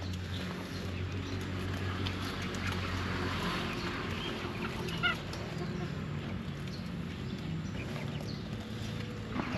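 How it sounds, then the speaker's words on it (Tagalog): Backyard chickens and ducks cluck and honk in an outdoor pen, with scattered calls over a quiet, steady background. "punta na tayo doon sa mga manok at saka pato natin sa loob"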